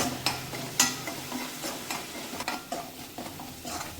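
Onions sauté in a pan under a quiet, continuous sizzle, with repeated spoon scrapes and taps against the pan at an uneven pace, close by.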